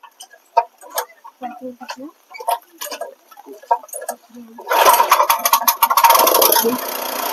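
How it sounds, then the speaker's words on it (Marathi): A tractor engine coughs into life and settles into a loud, steady running rumble before village ploughing, after scattered sounds that include a rooster crowing and hens clucking. "चालू झालाय ट्रॅक्टर"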